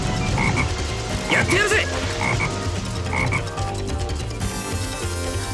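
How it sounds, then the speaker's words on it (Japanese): Frog croaking in the Sonic Heroes video game: repeated short croaks sound over busy game music and effects, and a brief shouted character voice line is heard. "見て、あそこにカエルがいるよ。"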